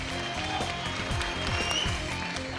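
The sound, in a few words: audience applause for a contestant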